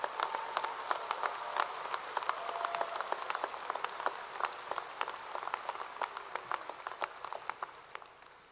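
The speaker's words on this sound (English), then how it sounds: "Can we have a round of applause for our class of 2023?" Commencement audience at the University of Evansville applauding the graduating class of 2023, a sustained wash of many hands clapping with sharp individual claps standing out, steady throughout and tapering slightly at the end.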